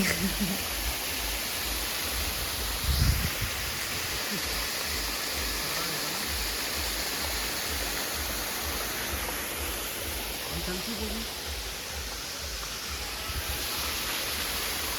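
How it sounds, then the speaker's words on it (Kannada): A steady, broad rush of falling water from Halli Mane Falls near Dharmasthala fills the scene, constant and fairly close, with a brief low thump near the start. "ಈ ಫಾಲ್ಸಲ್ಲಿ ನೀರು ಕೂಡ ಚೆನ್ನಾಗಿ ಬರ್ತಾಯಿತ್ತು"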